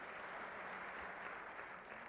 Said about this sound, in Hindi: एक बार मेरी बात को स्वीकार करते हुए तालियां बजाइएगा।